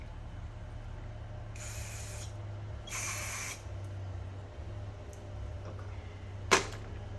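Two short hissing sprays of WD-40 onto Kawasaki Ninja 250 carburetor parts at a workbench, each about half a second long, over a steady low hum, followed by a sharp click near the end.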